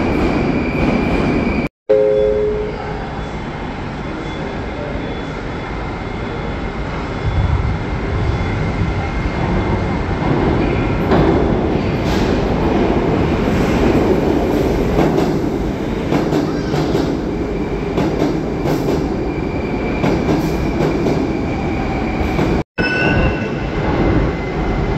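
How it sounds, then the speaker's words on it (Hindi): A metro train arrives at a busy station at office rush hour, a loud sustained roar of wheels and carriages with squeals and rumble filling the whole stretch, no speech over it. "We are waiting for our metro."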